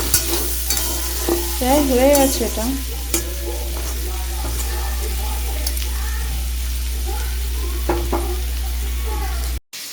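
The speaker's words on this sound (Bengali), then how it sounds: "এই জন্য শাকটা একটু ভাজা ভাজা করে নিচ্ছি" Greens with onions and potato sizzle and are stirred in a pan, spatula scrapes and clatters coming in bursts over a steady frying hiss and low hum, with someone talking briefly.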